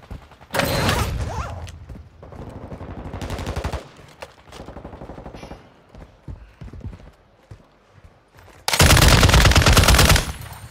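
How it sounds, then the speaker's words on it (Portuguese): Bursts of rapid gunfire in Call of Duty: Modern Warfare III, loud and close, with a long volley at the start and another at the end, separated by scattered quieter shots and clatter. "Tem gente trocando tiro aí."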